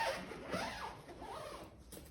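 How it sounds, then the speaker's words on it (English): A travel bag is zipped up in a few quick rasping pulls, close and fairly quiet, with a brief pause between strokes. "I'm gonna wanna zip up my bag and wait."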